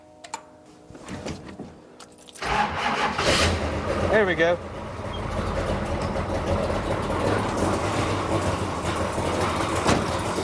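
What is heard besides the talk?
race car engine starting and idling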